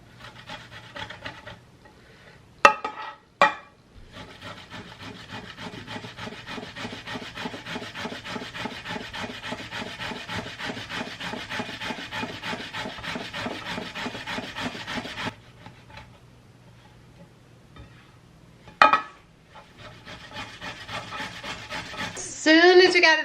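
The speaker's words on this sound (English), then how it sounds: "I'm gonna take a box grater and just grate the potatoes" Potatoes are grated on a box grater in a home kitchen, a steady rapid scraping rasp of repeated strokes, close and continuous with brief pauses and a few knocks.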